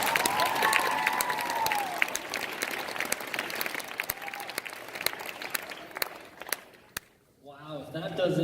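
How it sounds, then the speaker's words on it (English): At a middle school National Junior Honor Society induction ceremony, the audience gives the principal a long round of applause. Dense clapping with a few cheers fills most of the stretch, then dies away as a speaker begins talking. "Let's give him a big hand."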